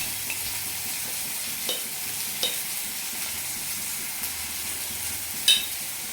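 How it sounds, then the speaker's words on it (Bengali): Red-fried onion being stirred in a pan after turmeric goes in, for a kochu shak (taro leaf) dish: a soft, steady sizzle with scraping spoon strokes and a few sharper clinks, with no talking. "পেঁয়াজটা লাল করে ভাজা হয়ে গেছে, তারপরে মধ্যে পরিমাণ মতন হলুদ দিয়ে দেবো।"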